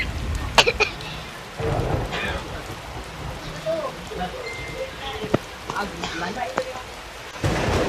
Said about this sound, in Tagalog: Umulan pa kasi.